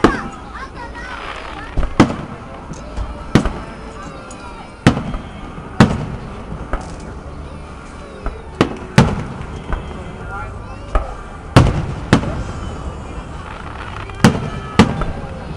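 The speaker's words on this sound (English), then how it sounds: "waiting for fireworks" Fireworks burst in a series of sharp, loud bangs roughly every second or two over about fifteen seconds, with people talking quietly in between.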